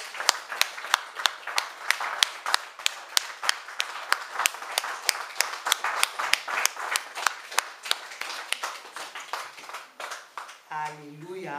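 A church congregation claps in a steady, sharp rhythm at a French-language worship service, the beats bright and evenly spaced for about ten seconds before a voice begins speaking over the final moments.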